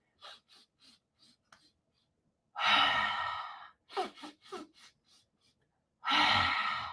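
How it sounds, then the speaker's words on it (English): Several quick, soft nasal sniffs in a row, then a long breathy exhale; another burst of short sniffs leads into a second strong exhale. "So it's a bunch of shallow breaths with your nose,"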